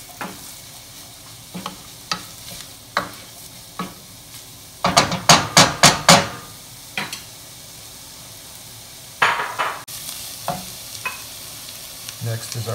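Carrots and onion sautéing in a pan give a steady low sizzle, broken by sharp utensil scrapes and knocks against the pan, including a quick burst of rapid stirring strokes midway.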